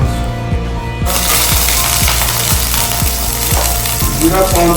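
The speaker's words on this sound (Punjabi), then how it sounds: "ਥੋੜਾ ਤੇਲ ਪਾਣਾ ਤੜਕੇ ਵਾਸਤੇ ਜ਼ਿਆਦਾ ਤੇਲ ਨਹੀਂ ਪਾਣਾ ਤੇ ਵਿੱਚ ਛੱਡਣਾ ਥੋੜਾ ਜਿਹਾ ਜੀਰਾ" A little cumin dropped into a small amount of hot oil for tempering an egg biryani bursts into a loud, close sizzle about a second in, over a steady, regular low thumping.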